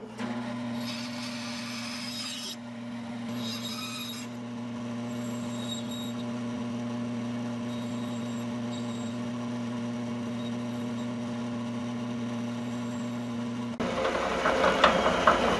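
A small power saw blade whines steadily with a sustained motor hum as it cuts out a tiny wooden crankbait lure, the tone holding for most of the stretch before the cut ends in a rougher, brief burst of grinding noise.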